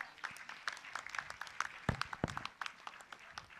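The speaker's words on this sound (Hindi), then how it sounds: "एक बार जोरदार तालियां।" Loud applause from an audience at a Jain religious gathering with a muni, dense clapping running steadily throughout with a few sharper claps standing out.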